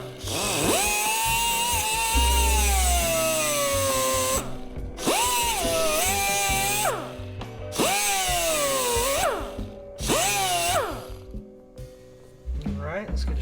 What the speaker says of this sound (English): So now we're going to cut this fitting here and try to attempt to change this hose.